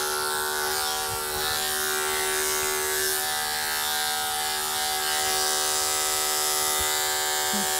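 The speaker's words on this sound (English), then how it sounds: "Lift the ear up, and then the clipper down the side of the cheeks." Electric clippers buzz continuously and close up while grooming a Labradoodle dog's coat, a steady bright drone with faint shifts in pitch as the blade moves through the fur, and no talking.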